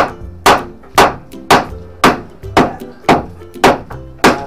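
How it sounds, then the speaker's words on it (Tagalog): Regular, sharp hammer blows strike about twice a second during an air conditioner installation, around nine hits in a steady rhythm, loud and close, each with a brief ringing decay. "konti pukpok lang, bubutas na yan."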